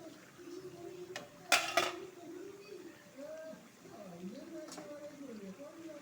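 A metal pot lid is lifted off simmering mixed vegetables with a couple of sharp clanks, while someone talks throughout.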